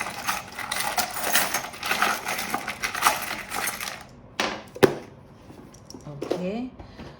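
A box of charms is opened and handled during a card reading, giving rattling, clicking and small metallic clinks near the microphone, with a few louder knocks toward the end.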